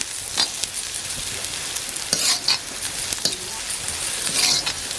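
Onions fry with curry leaves on a wood-burning stove for egg tawa fry masala, giving a steady close sizzle broken by a few stirring scrapes and light clinks.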